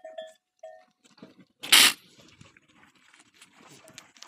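A loud, brief goat cry bursts out midway, with a few faint high calls before it and quiet farmyard rustling around, during goat milking.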